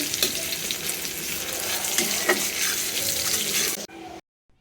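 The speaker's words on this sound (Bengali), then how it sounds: "কয়টা আস্ত জিরেও দিয়ে দিচ্ছি। তো পেঁয়াজ ভেজে দিচ্ছি।" Onions and whole cumin seeds sizzle steadily in a pan for a few seconds, with an even frying hiss and a faint clink, then the sound cuts off into silence.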